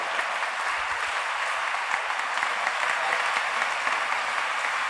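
Church congregation applauding as Reverend Pastor Cláudio Duarte is welcomed, a steady, dense wash of clapping from a large crowd that holds evenly for about five seconds with no voices on top.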